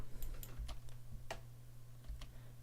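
Light keystrokes on a computer keyboard typing a short expression, a handful of scattered taps over a low steady hum, close but soft with no talk.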